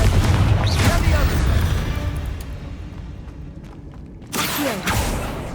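A Confringo blasting spell goes off as a loud booming explosion with a rumbling, crackling tail that fades, then a second sharp burst hits near the end.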